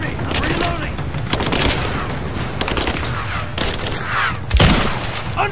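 Rapid gunfire in Rise of the Tomb Raider, dense volleys of shots and impacts crackling continuously over a loud battle din, with a heavy thump near the end and a voice shouting under it.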